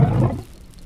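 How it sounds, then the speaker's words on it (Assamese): A cartoon lion lets out one loud, deep roar that swells at the start and then fades into a low rumbling tail, heard alone with no talk. "বোলো এডাল বাঘ নহয়, সিংহ হে।"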